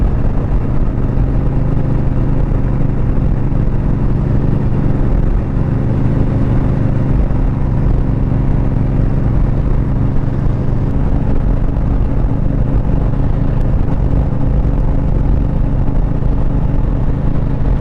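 A 2023 Harley-Davidson Road Glide ST rumbles steadily while cruising on an open highway toward a ghost town, a loud, continuous low engine drone with wind roar and no change in pace, with no voices.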